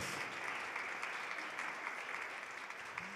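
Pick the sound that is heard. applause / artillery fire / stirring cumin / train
applause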